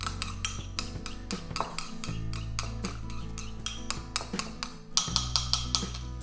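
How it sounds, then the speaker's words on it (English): A whisk beats lemon juice and Dijon mustard into a salad dressing in a bowl, producing rapid, close, rhythmic metallic clinks with brief pauses between bursts; no one speaks. "whisk that together"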